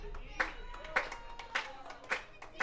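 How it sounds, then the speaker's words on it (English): Baseball fans in the stands clap their hands in a steady rhythm of sharp bursts about every half second, moderately close, with a faint voice in the background. "Everybody clap your hands."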